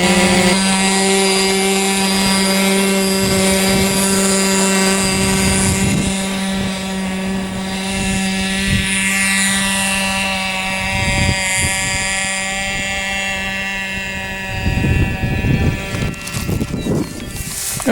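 A small 25-size engine on a Mud Dabber model airplane buzzes at takeoff with a loud, steady, high whine that shifts and roughens near the end.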